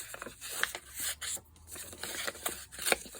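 Paper is torn by hand at a crafting desk during a journaling project, giving quiet, close, crackling rips in short uneven bursts with brief pauses between pulls.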